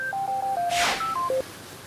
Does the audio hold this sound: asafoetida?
no